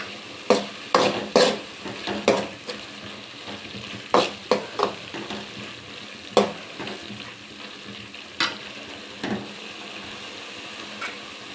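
Food frying and sizzling in oil in a pan, with repeated scraping strokes of a spoon stirring at an uneven rhythm, close and moderately loud, no talk.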